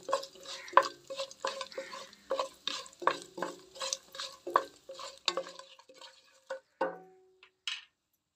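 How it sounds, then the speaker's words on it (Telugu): A spoon stirs cumin and whole biryani spices in a little oil in a pan, making rhythmic scraping and clinking strokes with a light sizzle underneath. The strokes are close and slow down and fade toward the end. "ఇప్పుడు అదే బాండీలో 1 టీ స్పూన్ నూనె, 1 టీ స్పూన్ జీలకర్ర, బిర్యానీ సరుకులు మొత్తం వేసుకొని దోరగా వేయించుకోవాలి"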